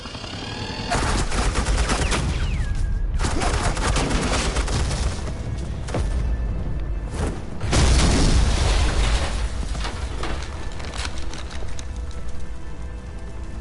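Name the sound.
suppressing gunfire in video game Batman The Enemy Within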